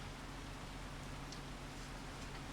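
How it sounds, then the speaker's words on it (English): Steady rain in Farming Simulator 25 hisses as an even, faint wash of broadband noise with soft patters, continuous and unvarying throughout, with no talking. "I haven't told you yet, but I really hate rain."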